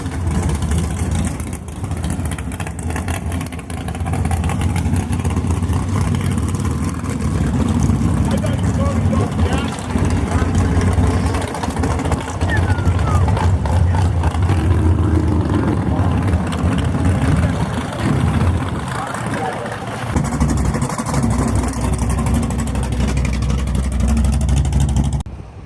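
A Dodge SRT8 Magnum wagon fitted with a newer Charger front end runs at Grand Bend Motorplex, its engine a steady, close, heavy low rumble that persists under people chatting nearby.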